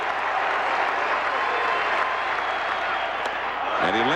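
A ballpark crowd at a 2003 playoff game between the Red Sox and Athletics roars with sustained cheering and applause, a dense, steady wall of noise throughout, with a brief whistle-like tone near the end.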